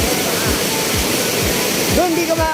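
Strong river current rushes steadily at a campsite in Nueva Ecija, a loud, continuous roar of moving water close by.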